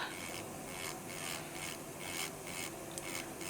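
An electric nail drill files builder gel on a fingernail, making a close, steady grinding rasp that rises and falls in regular strokes as the drill moves up and down, with no talking.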